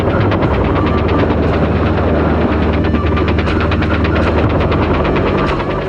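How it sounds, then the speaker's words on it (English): A UH-1 Huey helicopter's loud thudding rotor and engine drone mix with the rapid rattling bursts of an M60 machine gun, steady and close throughout. "The M60 machine gun fired at a rate of 550 rounds per minute."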